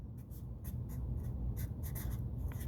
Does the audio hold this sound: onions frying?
no